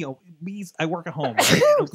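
A single sharp sneeze bursts out around the middle of ongoing conversation, loud and close, with people talking before and after it.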